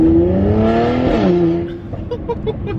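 A Mercedes-Benz C43 AMG's 3-litre V6 turbo engine, Stage 2 tuned to 460 bhp, revs hard and climbs in pitch, then eases off into a lower burble with a few popping crackles, loud and close.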